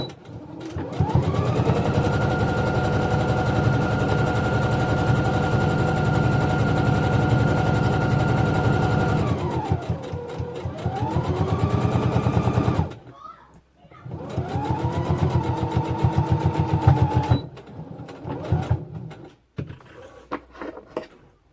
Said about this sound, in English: I will now sew the other side.